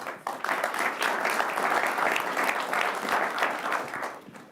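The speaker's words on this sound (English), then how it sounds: "Big round of applause to our today's panel." An audience gives a round of applause to a panel of ministers at a Saudi Arabia conference session, brisk, continuous clapping from a moderate-sized crowd at a steady level.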